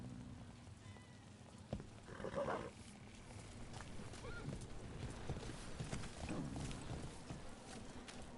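Donkey hooves clip-clop faintly on the ground in the fantasy game Dragon Age: The Veilguard, scattered and distant beneath a soft background hiss.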